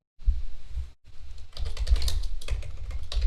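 Fast, close clattering of keys on a computer keyboard, with a brief pause before the rapid typing resumes and continues steadily.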